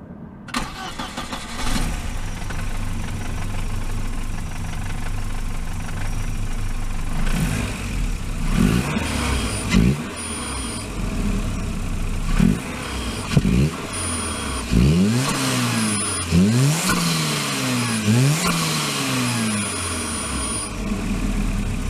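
A Volvo 240 Turbo engine starts and is revved repeatedly, intake and exhaust heard up close with a blow-off valve, a series of sharp rising and falling rev sweeps over a rough idle, getting denser toward the end.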